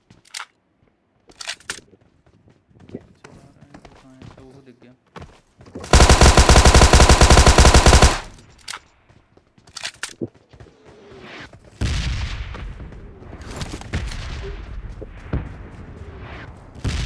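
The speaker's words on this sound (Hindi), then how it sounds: "कोई और गोली चला रहा है" Gunfire in the mobile game Battlegrounds Mobile India: scattered single shots, then a loud continuous two-second automatic burst, followed by more sporadic shots and clatter.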